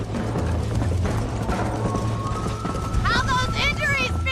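Galloping horse hooves in the Red Dead Redemption game on PS3, a steady clip-clop rhythm running throughout under loud game sound, with a voice speaking and shouting over the ride.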